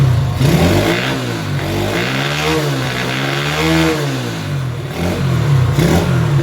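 A custom Honda C90 motorcycle engine runs close by with a loud exhaust, a steady buzzing putter that rises and falls a little as the throttle shifts, with no voices.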